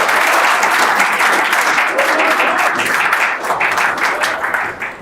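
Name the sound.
audience applause for presenters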